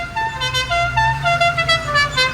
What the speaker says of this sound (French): Un bon kéké avec le même klaxon que Franck Dubosc que dans Camping.